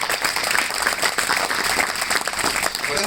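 A crowd applauds continuously, a dense wash of clapping at steady volume with no pauses.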